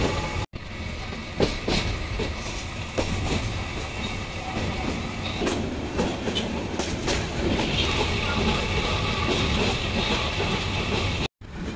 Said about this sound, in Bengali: লালমনি এক্সপ্রেস ট্রেনে করে লালমনিরহাটে যাচ্ছি।